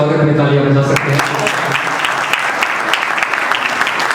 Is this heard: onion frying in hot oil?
no